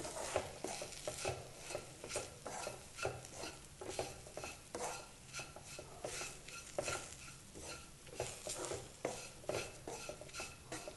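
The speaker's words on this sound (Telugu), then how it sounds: "కూరపొడి అంతా కూడా కర్రీలో బాగా కలిసేలాగా కలుపుకోవాలి" A spoon stirs curry powder into a pan of okra curry, continuous scraping and clinking against the pan with a soft sizzle underneath, close and steady with no talk.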